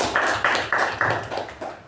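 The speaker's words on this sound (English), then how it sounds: "He deserves a big round of applause." Meeting attendees give a short round of applause for a presenter, heard as six or seven sharp, evenly spaced claps or taps that fade slightly toward the end, fairly quiet with no talking.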